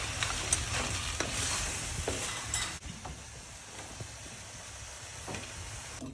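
Pasta with anchovy, chili and pecorino is stirred in a pan, making scraping, sizzling sounds that are loudest in the first few seconds and then fall to a softer crackle with occasional light clinks.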